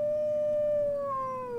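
A single sustained wolf howl from the video game Ultimate Wolf Simulator, a clear tone that slowly glides downward and then drops lower near the end, loud and close with no talk.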